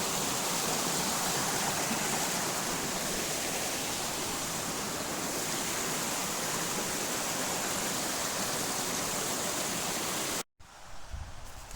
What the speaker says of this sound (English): Sometimes you get to see magnificent waterfalls.